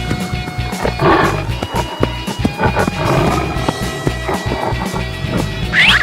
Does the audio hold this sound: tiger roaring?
yes